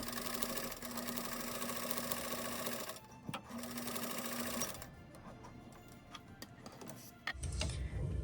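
Fabric is stitched on a sewing machine that whirs rapidly and steadily at close range, pausing briefly and then starting again before fading into softer handling sounds.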